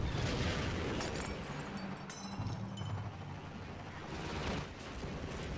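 A rocket explodes in Half-Life 2 co-op, with a deep rumbling boom and scattered crackling debris continuing at moderate distance, fairly quiet, with a second swell of rumble near the end.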